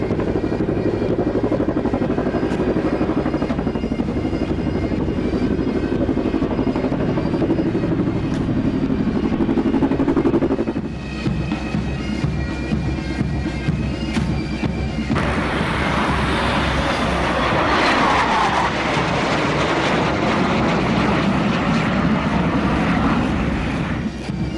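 Loud, continuous roar of Sri Lanka Air Force aircraft and helicopters in an Independence Day parade flypast overhead, with thudding rotor beats and a jet-like whoosh building toward the end.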